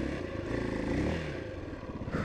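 Motorcycle engine revving hard during a failed wheelie attempt, a steady loud drone with surging pitch and some clatter toward the end, no talk.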